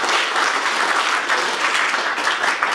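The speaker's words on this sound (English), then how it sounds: "Can we have a clap for that?" An audience at a public talk breaks into loud, dense applause, a steady wash of many hands clapping with no voices on top.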